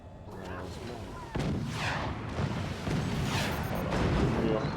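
Howitzer artillery fire in a strategy video game booms out in repeated heavy blasts with whooshing tails, one sharp onset followed by rolling explosions, moderately loud and continuous over faint background.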